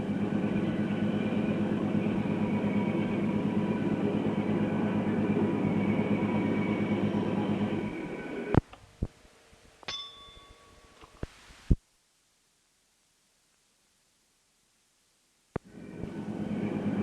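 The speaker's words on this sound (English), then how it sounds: "You can hear the wheels screaming as we come onto the switch at Crown Point." A 1966 Columbia & Western Railway train reverses onto the switch at Crown Point, its wheels screeching under a loud, steady rumble. Sharp clangs and metallic pings follow as the noise drops away, then a silent gap before the rumble returns.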